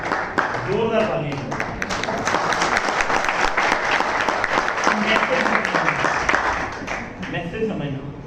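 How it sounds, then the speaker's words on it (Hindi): Loud, continuous clapping from a seminar audience holds steady and then tapers off near the end, with a voice audible over it at the start and finish. "जोरदार ताली।"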